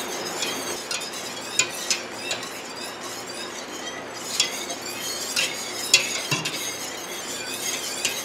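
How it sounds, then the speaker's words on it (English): A spoon scrapes and stirs trifle pudding in a pot on the stove, continuous swishing with scattered clinks against the metal and a faint sizzle, no talking. "I'm going to stir constantly until it's to a boil"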